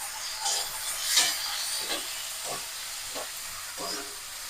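Onions sizzle and hiss steadily in a hot pan, with periodic scraping swishes as they are stirred.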